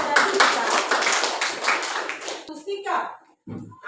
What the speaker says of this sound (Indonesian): Tepuk tangan sekali lagi buat Pinto dan Pinto.